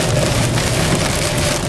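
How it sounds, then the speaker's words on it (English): Heavy rain pours steadily in Florida as a dense, loud, continuous hiss with no pauses. "I guess for Florida, it'd be considered light rain."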